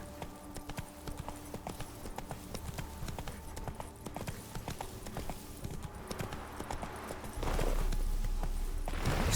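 Roach the horse trots in The Witcher 3: Blood and Wine, hooves clip-clopping in a quick, even rhythm close by, and a louder rumble swells in near the end.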